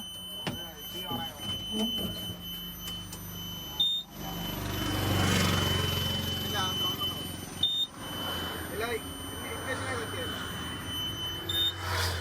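A truck's dashboard warning beep inside a lorry cab holds as a steady high electronic tone through the whole stretch, under someone talking and low cab rumble.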